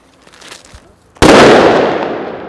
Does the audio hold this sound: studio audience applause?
no